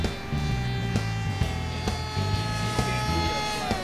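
A small Flyzone SkyFly Max RC plane comes in to land, its electric motor giving a steady whining drone with shifting pitch and intermittent clicks and thumps, close and fairly loud throughout.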